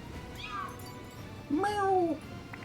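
A human voice imitating a cat gives two meows, a short thin one followed by a longer, louder, wavering one, close and clear over a quiet background.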